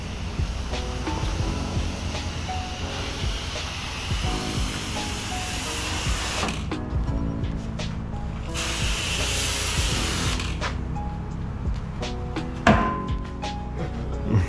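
A rotary surface cleaner sweeps over new pavers before sealing, giving a continuous loud hissing wash of spray with a mechanical whir underneath. It cuts briefly to quieter moments in between passes.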